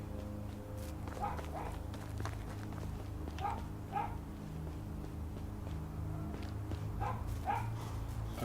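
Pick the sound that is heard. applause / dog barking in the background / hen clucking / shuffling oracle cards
dog barking in the background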